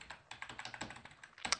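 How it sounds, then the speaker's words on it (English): Quick, uneven clicks of a computer keyboard being typed on, close and quiet, in a short burst with no voices. "my typing today is amazing"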